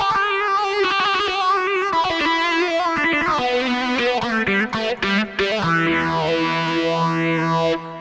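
A Ketron SD90 keyboard plays a sustained synth voice drenched in reverb and echoing delay, with sweeping, swirling tones washing over one another continuously.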